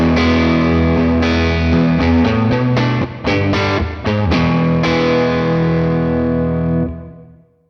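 Guitar chords played through a Morgan Amps Suite amplifier with its reverb high-pass filter set fully left, giving a darker tail with heavy low end. Several strummed chords ring loud and distorted alone, then a long reverb tail fades out at the end.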